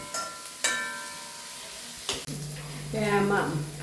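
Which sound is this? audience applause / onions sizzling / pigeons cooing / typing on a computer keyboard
onions sizzling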